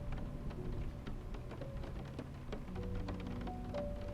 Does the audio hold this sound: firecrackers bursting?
no